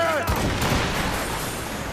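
A Puckle gun fires on enemy ships in Assassin's Creed Rogue, loud bursts of repeating shots with a heavy boom at the start and a rumbling volley trailing off, with muffled voices in the background.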